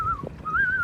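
A loon gives a short, clear, wavering wail, rising and holding in two brief tones over faint background noise.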